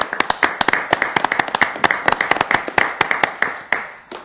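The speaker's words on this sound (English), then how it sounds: "let's give them a round of applause" A council meeting audience gives guests a round of applause, with many sharp, separate claps in a steady, lively burst that thins out toward the end. No one speaks over it.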